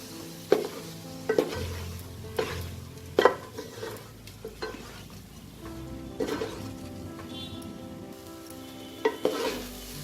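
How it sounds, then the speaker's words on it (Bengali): Rice for a soya bean pulao is stirred with spices in a hot pan: a low sizzle under repeated loud scraping and knocking strokes of a spoon against the pan, coming in uneven bursts. "চালটা দিয়ে আমি মিশিয়ে নেব।"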